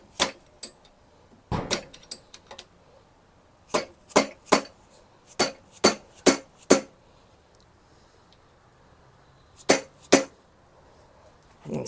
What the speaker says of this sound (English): Let's take our hammer, and you can tell that this one's a little smushed in